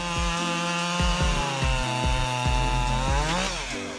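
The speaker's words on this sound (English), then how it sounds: "With a cutting speed of approximately 68 feet per second, this chainsaw easily tackles demanding jobs." A 59.8cc chainsaw engine drones loudly and steadily as it cuts through wood, its pitch bogging and recovering in repeated dips under load before climbing again near the end.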